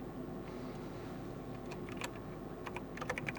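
Rapid keystrokes on a Logitech G512 X 75 mechanical keyboard while a macro name is typed, a steady run of close clicks that grows denser and louder toward the end, with no voices.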